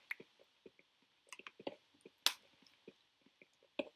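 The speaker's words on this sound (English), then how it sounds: "I know you can hear that water bottle" Quiet, close sips and swallows from a water bottle, with soft wet clicks and gulps spaced irregularly, plus one sharper plastic crackle, in an otherwise silent room.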